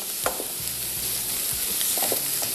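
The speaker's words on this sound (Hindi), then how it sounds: "तो इसको थोड़ा सा फ्राई किया, प्याज और लहसुन को" Onion and garlic fry in a pan with a constant sizzling hiss, punctuated by several low knocks and scrapes of stirring.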